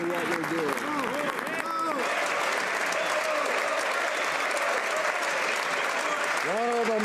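Sustained applause and desk-thumping fill the House of Commons chamber at a parliamentary sitting, loud and dense throughout, with voices calling out over it.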